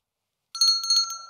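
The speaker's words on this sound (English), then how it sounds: "ring that bell, as usual" A short, bright ring starts abruptly after half a second of silence and rings on steadily, like a notification bell sound effect, heard alone with no voices.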